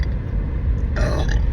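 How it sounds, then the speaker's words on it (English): A single close, low guttural burp swells from a rough rumble, with a brief brighter rasp near its end, set against steady background hum. "Confirmation burp."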